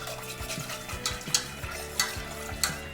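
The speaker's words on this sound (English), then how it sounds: "Just make sure you're constantly stirring" A spoon scrapes and clinks in a pot of boiling cheese sauce for scalloped potatoes, with rhythmic stirring strokes over a soft bubbling sizzle and no voices.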